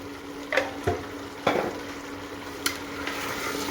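Chicken sizzles in a pan with ground red chilli and turmeric while being stirred, a steady fry hiss broken by several sharp utensil knocks and scrapes close by, with no talking.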